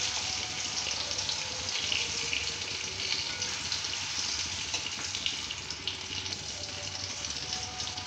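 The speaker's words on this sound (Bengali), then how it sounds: "লাল লাল করে ভেজে নিচ্ছি" Meat for a thin papaya and meat curry fries in a pan, giving a steady, dense, even sizzle that holds throughout without pause.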